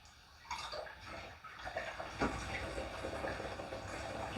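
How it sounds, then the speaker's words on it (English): Antifreeze pours through a funnel into a concession trailer's water tank, a steady close gurgling and splashing of liquid that holds continuously at moderate loudness with small surges. "now we're going to put the antifreeze into the tank"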